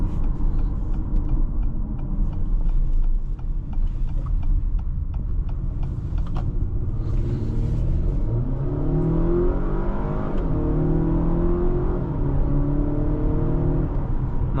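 A 2026 Acura RDX Advance drives and swings through a U-turn, its engine and road rumble steady and close throughout, with a rising engine note emerging in the second half as it pulls through the turn.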